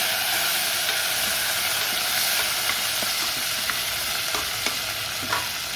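Curry leaves, mint and coriander leaves sautéing in hot oil for a mutton gravy, giving a steady close sizzle and frying hiss with occasional soft stirring clicks, with no talking.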